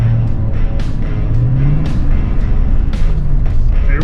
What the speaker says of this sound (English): We got traction in two-wheel drive with the Geolandars